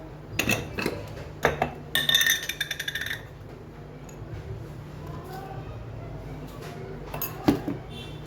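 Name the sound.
mixing homemade batter in a bowl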